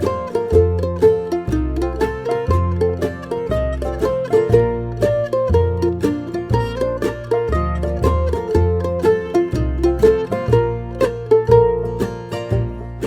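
Melody of the A section of Daley's Reel, played up the neck in a higher position over a bouncing bass accompaniment, brisk and steady, loud and close throughout.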